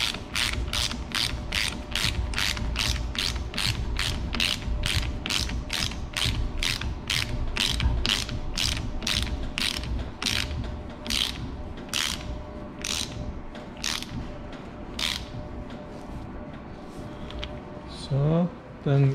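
A bolt is screwed into a limited-slip differential with a ratchet, giving a long run of sharp, evenly spaced clicks that slow toward the end, close and clear, with a short voice near the finish.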